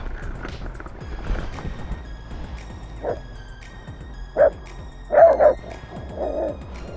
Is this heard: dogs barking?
yes